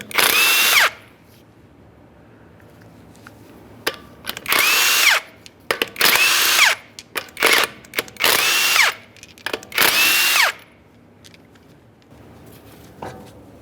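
Power impact tool spinning off 19mm lug nuts on a Ford Fusion wheel: five or six loud, close bursts of about a second each, separated by short pauses and small clicks.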